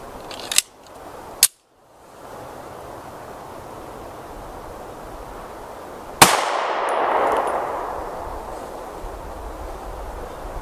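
A 9mm Hornady 115 grain FTX Critical Defense round fired in a ballistics test, heard as a couple of sharp cracks early on, then a louder report followed by a lingering ringing decay, with no talking.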